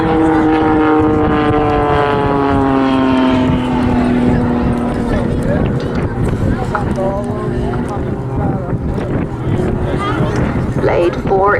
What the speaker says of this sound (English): Blade 4 is now pulling up and performing a torque roll